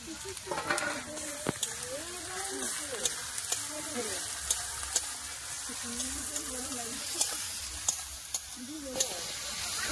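Ginger, garlic and tomato fry in a pan with a steady sizzle, broken by scraping stirs and sharp clicks of a spatula against the metal, while a voice talks quietly underneath.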